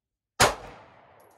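A single gunshot fired at a shooting range target, a sharp close crack followed by a short fading tail, alone with no voices.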